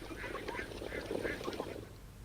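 Egg-laying ducks on a village duck farm quack repeatedly, several nasal calls overlapping in quick bursts, close and fairly loud over a steady outdoor background.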